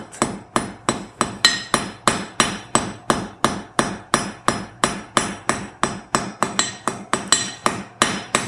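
A blacksmith hammers hot iron while shaping a scrolled heart pendant, with steady ringing strikes about three per second, close and loud, and no voices.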